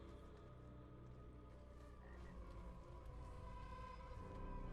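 In the Diablo video game, a frog croaks faintly and steadily amid a low ambient game soundscape, with no voices.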